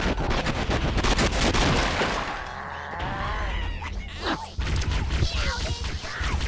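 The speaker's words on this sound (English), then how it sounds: "Oh, I'm being sniped." Sniper rifle shots from the Cursed Halo video game ring out loudly early on and fade into crashing impacts and scattered game effects, with a renewed burst of loud shots near the end.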